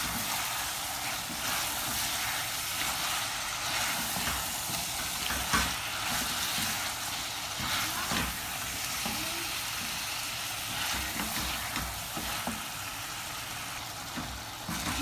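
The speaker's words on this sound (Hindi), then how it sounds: "भून रहा है मसाला" Masala sizzling steadily in oil in a pan, with red chillies and onion, as the oil begins to separate; a continuous close hiss with faint stirring clicks throughout, no talking.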